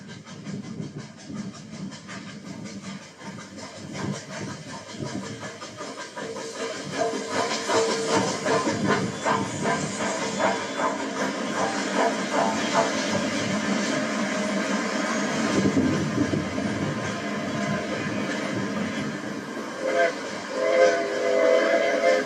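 Steam locomotive 3751 rolls into the Wellington rail yard from the east with a steady, rumbling chug and clanking railcars. Whistle tones sound over the continuous noise, and a narrator's voice can be heard in places.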